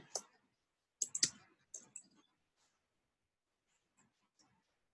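Computer keyboard typing in short clustered bursts of sharp, close clicks, followed by silence and a couple of faint isolated keystrokes.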